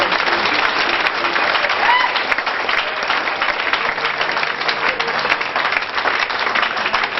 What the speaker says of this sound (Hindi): कि वे बिग एंड जोरदार तालियां